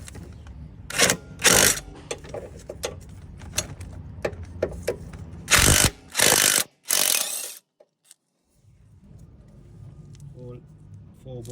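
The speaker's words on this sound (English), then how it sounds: "I'm going to use wobbly socket for that corner bolt." Ratchet with a wobble socket undoing a corner bolt on a Toyota Yaris during a clutch replacement: bursts of loud clicking, several short runs close by, with quieter mechanical handling between them.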